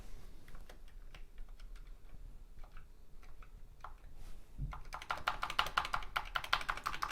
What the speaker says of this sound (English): testing out the keyboard once again